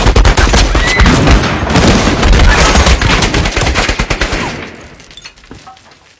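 Gunfire shootout in a film trailer: loud, dense bursts of automatic weapons fire and scattered shots rattling continuously, then fading away toward the end.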